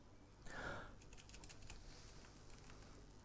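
Fingers typing on a computer keyboard, a quiet burst of soft key clicks followed by a scattered run of lighter taps, close and faint, with no voices.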